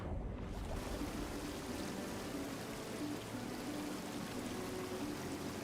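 Waterfall in a video game, a steady broadband rush of falling water filling the scene evenly from start to finish, with no voices over it.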